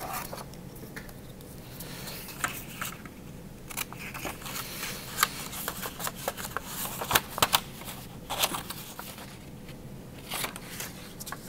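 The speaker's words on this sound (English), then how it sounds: "you can carefully cut that out." Scissors cutting shapes like building tops out of paper, a steady series of close, crisp snips and paper rustles, fairly quiet and heard without talk.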